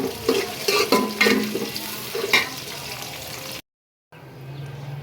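Onion and garlic fry in a pan while a spatula stirs, giving rhythmic scraping strokes over a steady sizzle, close and fairly loud, then a short silence and quieter frying hiss.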